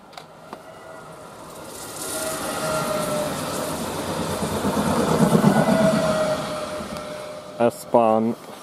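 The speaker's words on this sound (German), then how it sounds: "S-Bahn von, wow, Innsbruck nach Brenner." An S-Bahn commuter train from Innsbruck to Brenner passes close by, a rising rush and rumble of wheels on rails that swells and fades, followed by a short horn-like tone and a voice.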